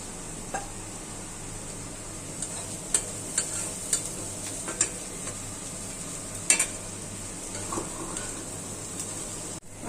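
Papaya stir-fry with coriander leaves sizzling steadily in a pan, a soft continuous frying hiss punctuated by a few sharp spatula clicks against the metal, close and fairly quiet.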